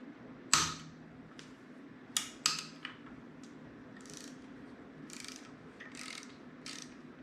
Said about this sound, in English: you're gonna want to take your Torx 27 to get these off